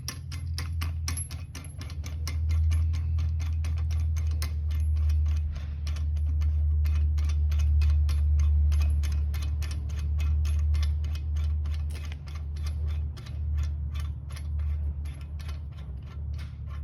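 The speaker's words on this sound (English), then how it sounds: "thread that all the way in your crankshaft right till it bottoms out at the end" A harmonic balancer installer tool is threaded into the crankshaft of a Ford 460 engine, giving a long run of quick, regular metallic clicks over a steady low hum.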